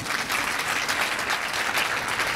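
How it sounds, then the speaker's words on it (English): An audience at a forum on women entrepreneurs, finance and markets applauds warmly, with steady, dense clapping from many people at an even level throughout. "Another round of applause, please."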